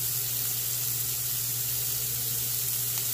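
Fat renders and fries in a pan with half a small onion for arroz biro biro, a constant dense hiss of sizzling with a steady low hum, no voices.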